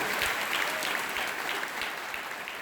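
Steady applause from a church congregation during a worship service, dense and continuous hand clapping filling the room for a few seconds at even loudness, with no talking over it.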